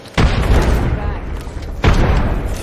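A fragmentation grenade detonates in a combat setting, heard as a heavy, loud boom with a sharp onset, followed by a second similar blast near the end, each trailing into dense rumbling noise.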